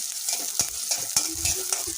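In a wok, finely chopped onions sizzle in oil while a spatula stirs them with a few distinct taps and scrapes spaced through a constant, close frying hiss; nobody talks.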